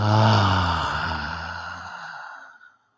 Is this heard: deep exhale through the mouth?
yes